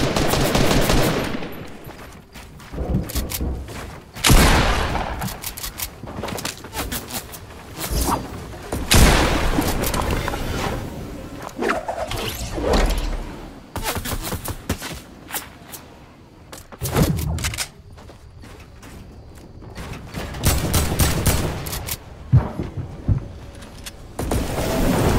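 Gunfire in the video game Fortnite, with loud bursts of rapid shots and single cracks repeating in clusters across the stretch, mixed with thuds and booms.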